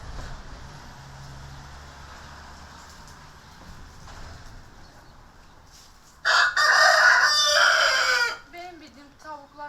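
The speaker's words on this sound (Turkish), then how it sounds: "Benim bildiğim anamın tavukları hepsi bir arada büyüyor. Kekü kekü diyorlar." A rooster crows loudly nearby, a long raspy call, followed by a few soft clucks from chickens against quiet outdoor background.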